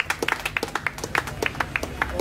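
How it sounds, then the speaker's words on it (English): A small audience claps at a tribute event, sharp individual hand claps arriving in an uneven, fairly sparse rhythm, close and moderately loud, with a faint murmur behind them. "Give him a big round of applause."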